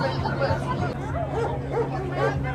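Dog barking amid a crowded protest, several short barks and yips under a dense babble of voices and nearby talk.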